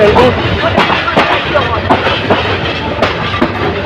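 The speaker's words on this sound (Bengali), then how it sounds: "ট্রেনটি শ্রীমঙ্গল রেল স্টেশনে এক নম্বর প্রবেশ করছে" The Parabat Express train rumbles steadily into Sreemangal railway station, with low clattering and periodic sharp clanks from the wheels, a loud continuous rolling noise close by.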